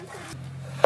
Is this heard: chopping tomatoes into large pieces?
yes